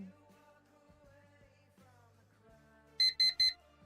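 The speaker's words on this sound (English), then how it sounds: "The loud alarm went off." A loud alarm bursts out in three sharp, high beeping pulses near the end, following a stretch of quieter background tones and electronic sounds.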